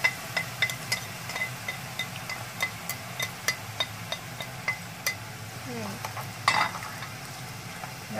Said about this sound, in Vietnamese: Rồi tiếp theo mình sẽ cho hết cái phần cà rốt này vào mình chiên.